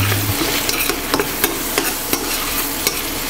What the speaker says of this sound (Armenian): Սայ լավ տապակում ենք։